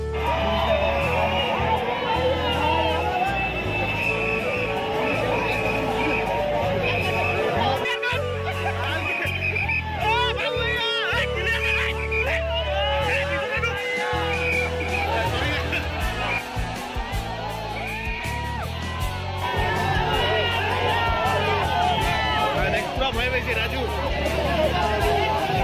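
Dense crowd babble at a city centre meet-up, continuous chatter, laughter and scattered cheers close by, with a nearby voice speaking over the hubbub throughout.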